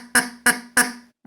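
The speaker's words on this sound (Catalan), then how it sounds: "Després tenim el nostre estimadíssim ànec" A duck quacks three times in an even rhythm, each call loud, close and nasal with a short buzzing tail and a brief gap between calls.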